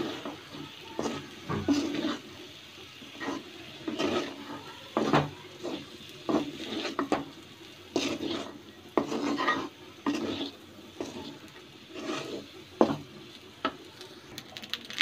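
Cooked rice is stir-fried in a pan, with repeated scraping strokes of a spatula against the metal in an uneven rhythm over a faint sizzle, close and moderately loud.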